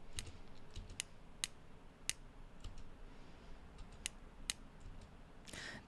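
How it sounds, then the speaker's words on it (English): Sharp, bright clicks from mechanical pencils, spaced irregularly one at a time over a faint steady background hiss; close and crisp. "These are pencils, mechanical pencils."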